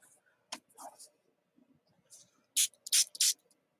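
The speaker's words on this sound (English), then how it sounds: "Let's spray that brush." A spray bottle is squirted at a paint brush in short bursts, close and crisp, with a cluster of three hissing sprays near the end following sparser small noises and faint movement.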